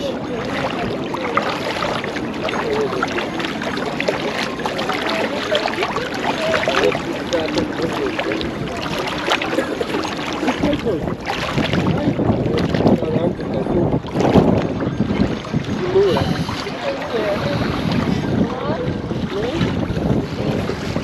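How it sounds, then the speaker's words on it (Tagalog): Gusty wind buffets the microphone in a constant rough roar, with water sounds and occasional voices talking underneath. "Medyo mahangin."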